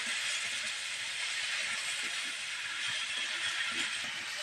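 Chicken pieces frying in hot oil in a pan with salt and turmeric powder, a steady close-up sizzling hiss with faint crackles and pops running evenly throughout, no voices.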